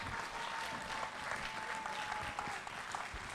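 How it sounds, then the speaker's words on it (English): A school audience of children and adults gives a steady round of applause after a space station radio contact event, a dense, even wash of clapping heard from within the room, fairly faint overall. "So give them a huge round of applause, everybody."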